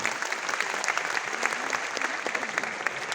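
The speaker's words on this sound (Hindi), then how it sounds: "Can we all please put our hands together?" Audience applauding at a Jashn-e-Bihar stage event for AWPL, a dense and steady wash of many hands clapping at close range throughout.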